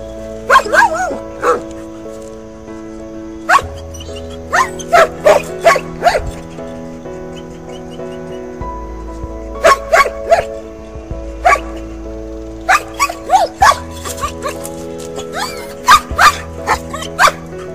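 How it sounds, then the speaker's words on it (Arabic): A dog gives repeated low barks and short yips in irregular bursts, close and fairly loud, over a steady low hum, with no talking. "نباح منخفض"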